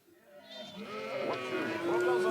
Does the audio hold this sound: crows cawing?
no